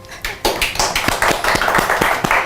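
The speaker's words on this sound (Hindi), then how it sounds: "ताली बजा दो भाई सब।" People clap for a young girl and her family on a talk show set, producing loud, close, slightly uneven claps that quicken into a rapid run of hand claps.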